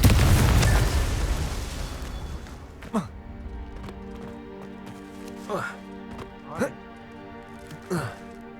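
A Confringo explosion spell goes off in Hogwarts Legacy with a loud, close boom that decays over about two seconds, followed by several sharp, brief magical zaps spaced a second or two apart.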